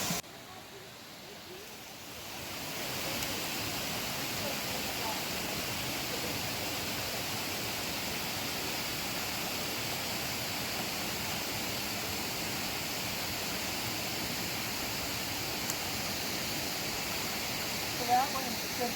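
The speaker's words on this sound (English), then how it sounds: "It also has several small waterfalls." A small waterfall in Pisgah National Forest rushes steadily, a constant broadband splashing roar that swells in after a couple of seconds and stays even throughout.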